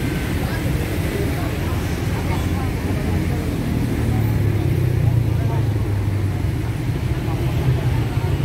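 An ALS 365 long-distance bus, bound from Surabaya to Medan, rolls forward under steady engine rumble, a continuous low drone that swells slightly midway, with voices talking faintly over it.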